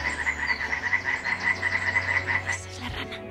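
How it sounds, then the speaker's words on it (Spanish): Frogs croaking at a pond fed by rainwater, with a rapid, steady pulsing call that is loud and close. It continues for a few seconds, then stops abruptly. "Esa es la rana. Esta no sé cuál es, pero están ahí cantando"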